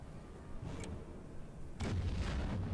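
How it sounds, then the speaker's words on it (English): A deep, rumbling blast goes off in the Captain America: Super Soldier video game, a broad burst that hits suddenly and keeps roaring over a steady background hum, with no talking. "Talk about an on-time explosion."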